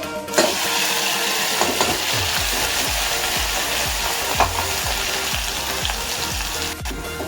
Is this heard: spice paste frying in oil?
yes